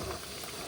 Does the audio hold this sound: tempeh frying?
yes